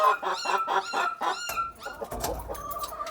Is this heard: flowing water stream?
no